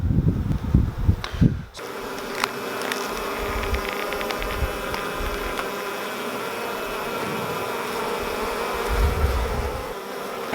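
A dense, steady buzz of honeybees fills the air around a green-marked Carpathian queen on a hive frame, close and continuous after a brief rustle at the start.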